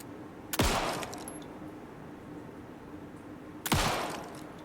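Two loud, sharp gunshots in the video game Alan Wake 2, about three seconds apart, each with a booming tail that fades into a quiet, low ambient hum.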